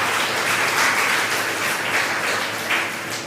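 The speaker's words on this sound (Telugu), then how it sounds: "గట్టిగా చప్పట్లు కొట్టుకోండి ఒకసారి" A church congregation at a Corpus Christi Holy Mass claps loudly, a dense sustained burst of applause that swells and fades slightly over a few seconds with no voices.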